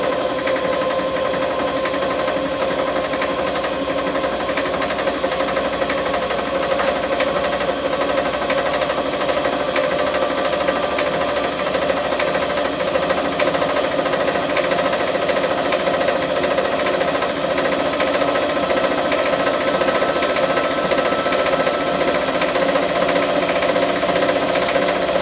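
Spindle motor running steadily for the whole stretch, a dense mechanical hum with a bright tonal whine and a faint rising pitch as it climbs toward 3,000 RPM, close and loud with no talk.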